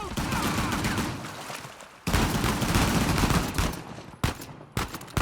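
Loud bursts of rapid gunfire from the video game Uncharted: The Lost Legacy, sustained volleys with brief drops around the second and fourth seconds before shots resume.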